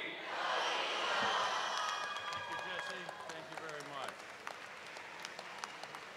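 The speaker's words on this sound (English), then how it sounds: "give me a really big go Eagles" A large crowd at a commencement ceremony shouts "Go Eagles" together in a loud burst that fades into scattered cheering, clapping and chatter.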